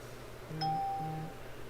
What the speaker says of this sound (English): And I got everybody dinging my doorbells.